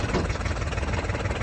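A JCB Workmax utility vehicle idling, its fitted tin tailgate adding a steady metallic rattle over the low, continuous engine drone, close by.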